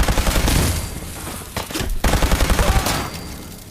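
Rapid automatic gunfire in the video game Fallout, loud close bursts of repeated shots in two volleys with a short gap between them.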